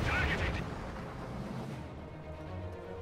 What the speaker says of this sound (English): T-34 firing at the machine gun right there.